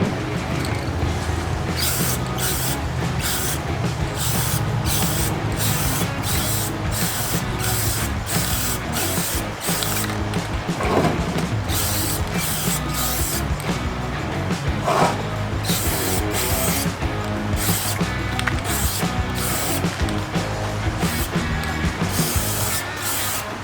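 An antique Alcosa forge is spray painted during restoration: a loud, continuous hiss of aerosol spray runs unbroken throughout, with slight flickers in intensity as the nozzle moves.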